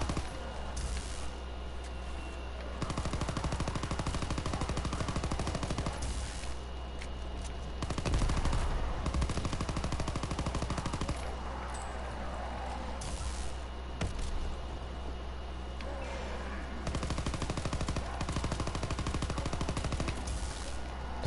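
Rapid gunfire from a video game weapon, bursts of automatic shots recurring through the stretch, fairly faint under a constant low hum of game background, with no talking.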